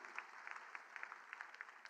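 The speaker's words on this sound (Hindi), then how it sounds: "एक बार मैं चाहूंगी आदरणीय गुरु जी के लिए भी आप जोरदार तालियां बजाएं।" Applause from an audience at an Agrawal community foundation day event honouring a revered guru, a steady spread of many hands clapping at moderate distance, fairly faint and even throughout.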